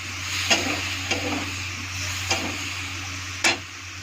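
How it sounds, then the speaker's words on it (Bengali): Potatoes tossed into a hot pan with onions and stirred, a low steady sizzle broken by four distinct knocks and scrapes of a spatula against the pan, the last one loudest. "এখন ছেড়ে দিব আলুটা। আলুটা ছেড়ে একটু নেড়ে ছেড়ে"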